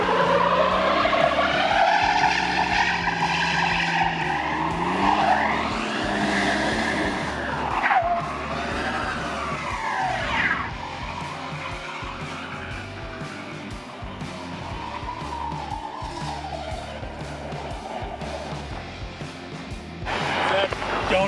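Toyota Tundra Limited double cab truck doing donuts: loud, sustained tire squeal rising and falling in sweeping arcs over a rumbling engine, continuous for about twenty seconds.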